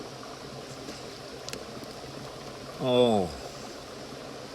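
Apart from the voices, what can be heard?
creek water flowing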